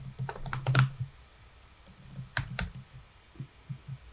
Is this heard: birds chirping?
no